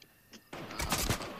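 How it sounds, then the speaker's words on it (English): Burst of gunfire in an online shooter video game, a few quiet distant shots followed by a louder rapid cluster of reports. "Where is this gunfire coming from?"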